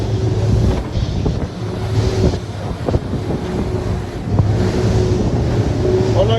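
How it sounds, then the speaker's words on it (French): Wind buffets and short, steep, choppy waves slap against a Cap Camarat 10.5 CC motorboat running at reduced engine speed; a steady engine drone and loud broadband wind-and-water roar continue throughout. "le vent s'est levé, la mer moutonne très fort, on a des vagues courtes assez hautes"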